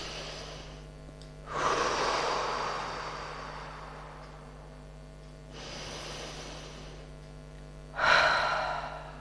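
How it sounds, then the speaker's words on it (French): Slow deep breathing, close to the microphone: three long airy breaths rising and fading, with a steady low hum underneath. "Respiration."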